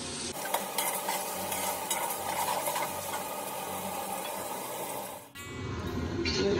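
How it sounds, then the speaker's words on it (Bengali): Onions frying in a pan with steady sizzling and stirring for a Bengali beef rezala with potatoes, continuous and close, with the sound dropping briefly before louder frying resumes near the end. "পেঁয়াজটা 5 থেকে 6 মিনিটের মধ্যে ভাজবো।"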